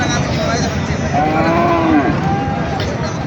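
Cattle at a livestock market, including large Haryana bullocks, with one loud drawn-out moo rising and falling near the middle over a dense murmur of crowd and animal noise.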